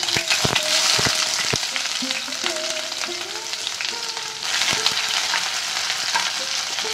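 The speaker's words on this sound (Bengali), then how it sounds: "এবার পেঁয়াজগুলোকে দিয়ে দিচ্ছি।" Onions added to hot oil with garlic in a pan, giving a continuous close sizzle that swells as they hit the oil, with a few sharp knocks and scrapes of stirring and no talk.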